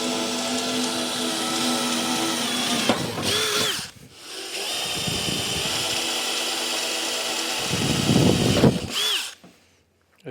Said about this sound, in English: it's nice and soft, easy to drill, easy to cut.